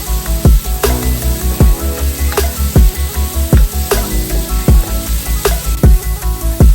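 Onions sizzling loudly in a hot pan for chicken curry, with a steady crackle broken by regular scraping thumps as they are stirred back and forth.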